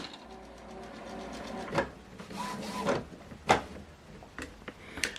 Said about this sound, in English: the ink will position itself for you to replace it